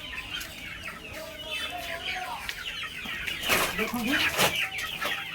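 Desi chickens clucking and squawking close by while being fed grain, busy overlapping calls with occasional wing flaps, and someone talking over them.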